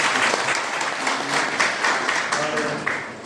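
Students applaud a speaker at a university inauguration ceremony in India: sustained, dense crowd clapping of even loudness throughout, with scattered individual claps standing out, and no voices on top.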